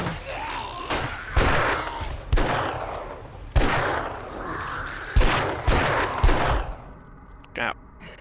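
Gunfire from a .44 Magnum in the console version of the survival game 7 Days to Die: about eight loud, sharp shots spaced irregularly over several seconds, each with a short echoing tail, followed by a faint reload click near the end.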